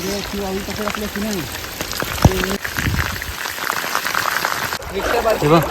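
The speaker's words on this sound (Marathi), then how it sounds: "जाम पाऊस पडतोय तिकडे गावाकडे पण जाम जोरान आलाय पाऊस" Steady rain hisses loudly throughout, close by, while a person talks over it and frogs croak in short bursts.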